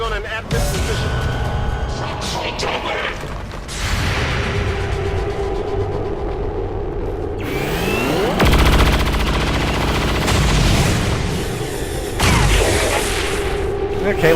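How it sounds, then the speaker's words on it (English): Overwatch gunfire erupts in the XCOM 2 video game, with repeated loud shots and booms layered over a dense, continuous game soundtrack, swelling in bursts across the battle. "lots of Overwatch fire all around"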